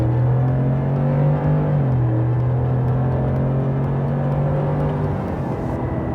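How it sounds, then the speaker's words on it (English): A 2018 Ford F-150 XLT Sport pickup accelerating toward highway speed, its exhaust a deep, loud, steady drone that climbs, shifts once and keeps pulling, heard from close by with no talking. "let's get a little bit of an exhaust clip here, a little bit of an acceleration test"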